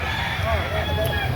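A rooster crows at a busy Saturday chicken market in Lipa City, Batangas, its drawn-out call rising amid other fowl while people talk and haggle nearby.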